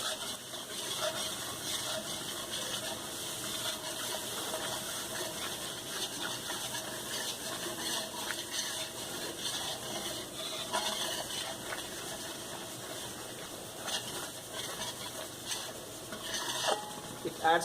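A paste of magaz and cashew nut is stirred into a simmering makhni gravy, giving a steady, close scraping and swishing of a spoon in the pan under a constant background hiss.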